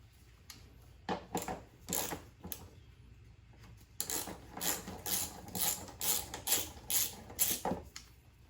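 A ratchet backing out a 10mm bolt on a 2014-or-later Toyota Tundra during an airflow intake install, rapid clicking bursts in short runs, close and moderately loud.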